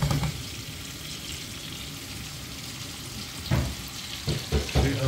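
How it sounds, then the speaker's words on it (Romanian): Steady crackling sizzle of shrimp frying in a hot pan, with a few louder bursts of spattering near the end; no talking. "acum rămân un pic la prăjit așa"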